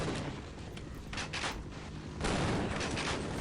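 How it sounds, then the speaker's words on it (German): Grenade blasts and gunfire in the game Half-Life, a dense, continuous battle din with sustained crackling fire that swells louder about two-thirds of the way through, no talking. "die schmeißen schon wieder scheiß Granaten"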